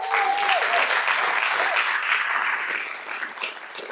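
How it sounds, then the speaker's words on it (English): Applause from a school board meeting audience honoring a boys basketball team, a dense wash of many hands clapping that starts full and tapers slightly toward the end, with a brief voice audible early on. "can we give a round of applause to our boys basketball team who won 5 games in a row"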